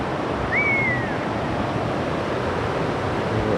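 Steady broadband rush of a stream flowing nearby, with one short high bird whistle early on.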